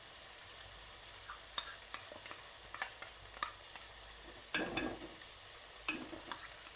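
Fenugreek, turmeric and chilli powder mix stirred into a frying pan for a tamarind-and-chilli fish curry, with steady sizzling and scattered scraping and spoon clicks on the pan.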